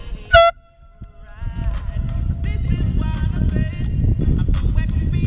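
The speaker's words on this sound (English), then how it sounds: "cause a bit of disruption with our foghorns, our emergency foghorns" One short, loud, blaring emergency air horn blast sounds near the start on a boat, then a brief quiet gives way to steady, rough rumbling noise.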